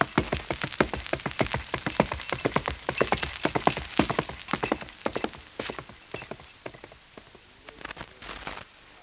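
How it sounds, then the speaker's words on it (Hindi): A horse's hooves clip-clop in a quick, irregular run of sharp woody knocks, fairly close and alone, thinning toward the end, as a mount is readied outside for a ride to a polo field. "बाहर मेरा घोड़ा तैयार है"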